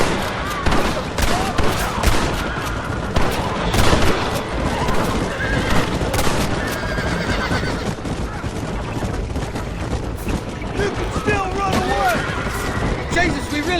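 Sustained gunfire from Red Dead Redemption crackles in dense volleys alongside horses whinnying and hooves, loud and chaotic throughout, with shouting voices mixed in.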